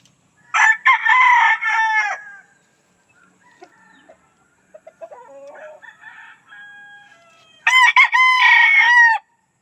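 A sweater gamefowl rooster in a backyard crows loudly and close twice, one long call at the start and another near the end, with faint clucking and scattered bird sounds in the quieter stretch between.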